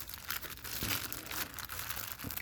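A plastic bag is opened and crinkled close up in a quiet room, giving bursts of crackling rustle and a few small tearing sounds over about two seconds, with no talking.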